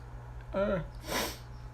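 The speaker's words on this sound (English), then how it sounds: "I feel like I gotta sneeze" A single close sneeze, a short intake followed by a sharp burst, with nothing else around it.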